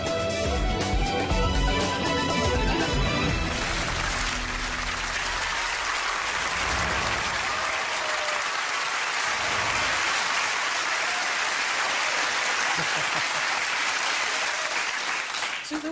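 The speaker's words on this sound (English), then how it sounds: "See, they're all suddenly cheering there." A television studio audience bursts into loud, sustained applause and cheering that fills the room, starting under music and then carrying on steadily as a dense wash of clapping.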